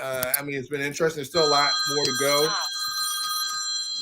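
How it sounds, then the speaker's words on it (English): A rotary telephone bell rings in a steady, continuous trill that starts under a man's speech and carries on alone for the final seconds. "It's like a rotary phone."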